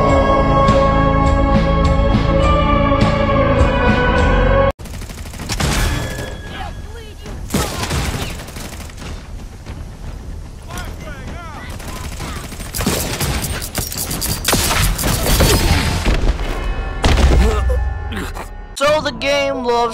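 Bursts of gunfire from the video game Redfall crack and pop in rapid volleys after a sudden cut from music, loud and dense throughout, with a voice heard briefly.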